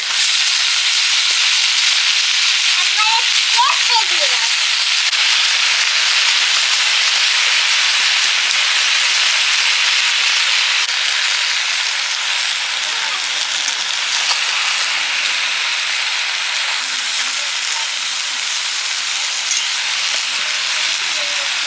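Malabar spinach (pui shak) hits a hot pan with a loud, steady broadband sizzle that hisses on continuously, easing slightly toward the end, with faint voices in the background.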